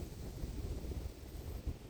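Wind gusts across an outdoor microphone on a cold day in a tulip field during tulip season, making a steady, loud low rumble with slight buffeting and no voices.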